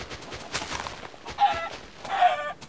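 A Minecraft chicken in a Tekkit modded world clucks after laying an egg, giving a few short, moderately loud clucks spread across the moment with small quiet gaps between them.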